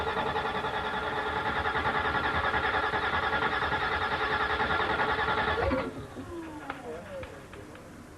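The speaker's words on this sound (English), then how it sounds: "It's the first time our engine's been fired up, and it sounds glorious. You just can't beat the roar of a V8." A V8 car engine fires up for the first time and roars steadily and loudly for almost six seconds, then drops off sharply to a quieter rumble.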